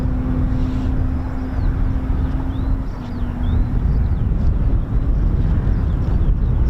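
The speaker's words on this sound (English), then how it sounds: "You can hear those beautiful engines starting up." Spanish Air Force EF-18 Hornet jet engines start up at RAF Marham, a loud, steady roar with a rising high whine and a low hum running throughout.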